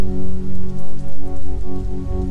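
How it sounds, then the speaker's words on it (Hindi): Rain pattering loudly and steadily outdoors near a bridge on Randall's Island, a close continuous wash of drops. "इत्तेफाक से हमारे सफ़र के आगाज़ में ही और बूंदाबांदी शुरू हो गई"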